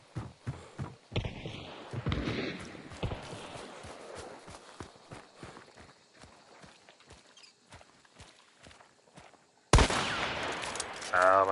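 Shotgun blasts ring out in a first-person video game, a series of sharp, rhythmic booming reports followed by a louder burst near the end.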